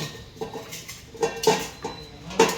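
Century-old brass household vessels, pots and tiffin carriers being handled, giving several bright metallic clinks and clanks at irregular intervals, close and fairly loud.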